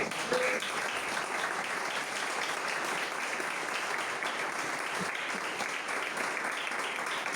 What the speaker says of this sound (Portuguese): Você que concorda, aplauda ele.